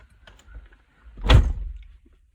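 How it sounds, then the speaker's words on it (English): A single door swings shut with one muffled thud after faint rustling, close by and brief, followed by quiet. "Close that door."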